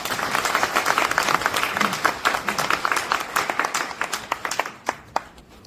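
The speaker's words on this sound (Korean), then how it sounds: "우리 최장선 회장님께 뜨거운 박수 한번 주시죠" Audience applauding a newly inaugurated president of a Korean home long-term care institutions association at an inauguration ceremony, a dense burst of clapping that thins into scattered claps and fades out.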